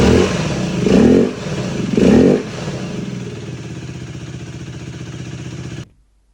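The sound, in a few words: 125cc motorcycle engine running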